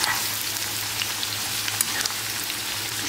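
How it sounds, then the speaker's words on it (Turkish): Vegetables, including eggplant, sizzle and crackle steadily in a hot pan, a continuous close-up frying hiss with little pops. "Bunları da hepsini birlikte güzelce kızartıyorum."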